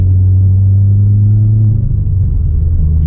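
A 2016 Subaru WRX, stock apart from its catback exhaust, drones loudly and steadily while driving, a deep close rumble that shifts pitch slightly partway through.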